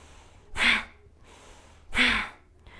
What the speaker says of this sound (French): On expire. Et c'est l'expiration qui va être dynamique.